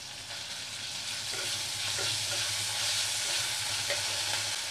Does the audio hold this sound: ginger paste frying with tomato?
yes